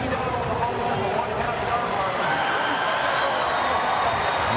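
College football stadium crowd at a Northern Illinois at Tulsa game, a broad roar of thousands of fans rising and holding steady, with a commentator talking over the noise.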